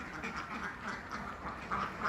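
Ducks on a farm pen holding both laying and meat breeds quack steadily in a noisy flock, with overlapping calls at moderate distance and no talking.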